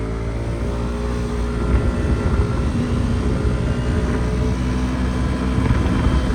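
A Suzuki Address V50 fuel-injected four-stroke scooter engine runs steadily at a relaxed cruising pace, a continuous low droning hum with a faint buzzing whine, close and unbroken.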